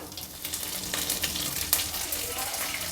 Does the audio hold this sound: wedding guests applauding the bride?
no